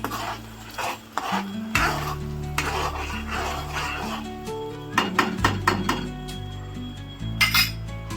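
A metal spoon scrapes and clinks around a pan of chilli paneer gravy thickened with cornflour water, steady stirring with sharp knocks against the rim.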